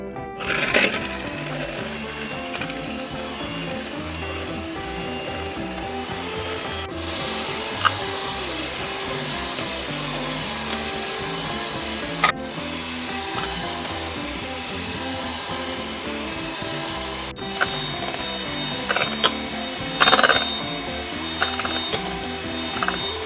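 An electric mixer beats eggs for a spiku layer cake batter, a steady whirring mechanical drone with a rhythmic churning texture that continues close and unbroken, with a few faint knocks and no talking.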